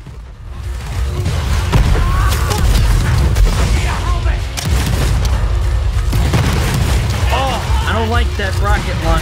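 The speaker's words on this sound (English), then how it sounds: "That rocket launcher going up against it." Rocket launcher blasts and explosions in the video game Borderlands 3, loud booming bursts layered over dense game noise and music, with a voice talking throughout.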